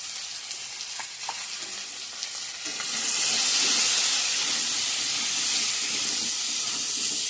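Spices sizzle in hot oil in a pan after salt and turmeric go in, a steady broadband hiss that swells louder partway through and holds, with faint stirring clinks early on and no talking.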